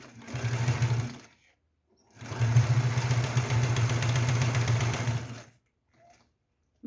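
Sewing machine stitching a cord-trimmed fabric tray, running in two steady motorized bursts, the first about a second long and the second nearly three and a half seconds, with a brief pause between and quiet afterward.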